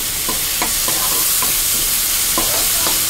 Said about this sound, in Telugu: ఇది అంతా బాగా ఒక 3 minutes అయితే వేగాలి.